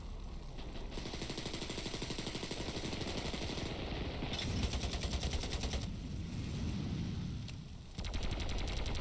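A Browning machine gun fires in the game Ravenfield in long, rapid automatic bursts with a tight, rattling rhythm, loud and close, with brief gaps between strings of shots.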